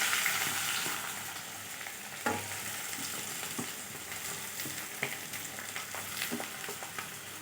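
Sliced onions fry in hot oil with popped mustard seeds and urad dal for masala dosa filling, a steady crackling sizzle with occasional sharp pops and stirring sounds, close and continuous.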